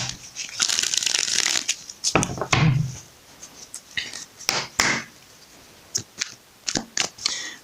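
A tarot deck, the Woodland Warden's Oracle cards, riffled and shuffled by hand in close bursts of crisp papery flutter and slaps, pausing between shuffles.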